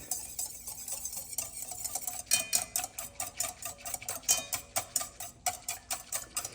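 A utensil stirs milk in a pot for homemade yogurt, giving a run of rhythmic scraping strokes, roughly two per second, close and fairly quiet, with no talk.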